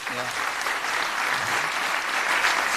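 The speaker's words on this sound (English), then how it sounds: "Let's hear one more big round of applause for Nick Janicki." An audience at a talk show in Deventer gives a sustained round of applause for a guest, dense steady clapping from a room full of people, with a brief voice at the start.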